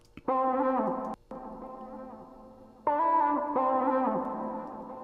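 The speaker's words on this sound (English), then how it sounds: "see how wide that is, the spring, reverb, and the delay" Sustained electric guitar chords drenched in spring reverb and delay, ringing out wide with echoing tails; a brief gap, then the chords return, no talking.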